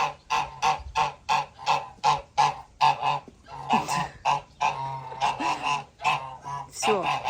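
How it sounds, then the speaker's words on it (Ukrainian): Domestic geese honk repeatedly at close range, loud nasal calls coming in quick bursts and overlapping one another, with a person speaking briefly in between. "Дивися, гусак як укусе."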